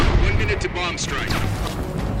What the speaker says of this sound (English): Confirmed, bombing strike imminent.